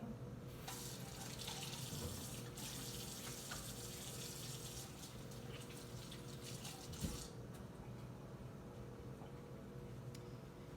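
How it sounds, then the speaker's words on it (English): Hands being washed under a running kitchen tap, a steady hiss of faucet water striking a sink with brief splashes and shifts as the hands move through the stream, quiet and close, with no talking. "let me wash my hands real quick"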